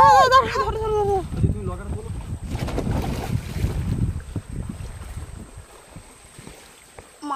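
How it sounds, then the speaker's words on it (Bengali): Heavy wind buffets the microphone with low rumbling gusts on a fishing boat on the Garhal river during a storm, while a voice talks briefly at the start over the blustery noise outdoors. "এত হাওয়া দিচ্ছে"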